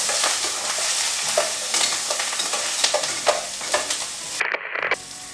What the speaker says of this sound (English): We're gonna give them a nice little stir.